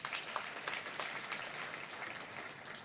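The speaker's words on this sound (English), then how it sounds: "the entire team led by Dr. Fowler deserves a louder round of applause" Faint, distant audience applause at a Nigerian gathering, a soft continuous patter of clapping that slowly thins toward the end.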